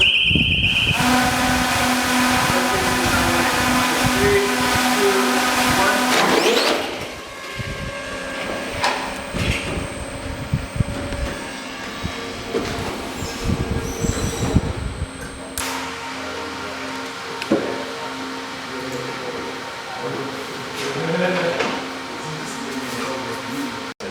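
Zipline delivery drone on a launcher in Rwanda, its motors spinning up as a loud, steady whine and hum that cuts off abruptly after about seven seconds, followed by quieter mechanical clatter and background noise.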